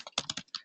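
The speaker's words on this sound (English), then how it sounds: "how we do that is you type in your email" Keys clack on a computer keyboard in a quick burst of separate taps while an email address is typed.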